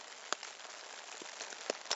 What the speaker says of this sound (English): So the rain's been off and on all morning.